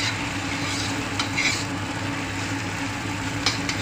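Vegetables frying and being stirred in a pan for an aloo and bankla sabji, a steady close sizzle with light scraping of the spoon, no voices.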